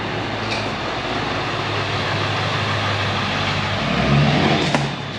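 A truck engine rumbles steadily nearby, growing slightly louder and heavier toward the end as it pulls up.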